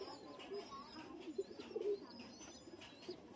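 A restless pigeon gives low, throaty coos in a few brief bursts while being held and handled, moderately close, with faint chirping from other birds in the background.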